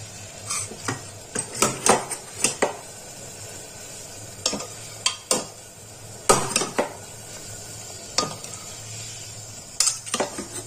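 Marinated chicken going into boiling water in a cooking pot, with scattered clinks and scrapes of a utensil against the pot and a low bubbling underneath, in bursts over quiet stretches.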